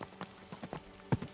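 A brief run of horse hoofbeats on a path in Kingdom Come: Deliverance 2, several close, soft clops with one sharper strike near the end.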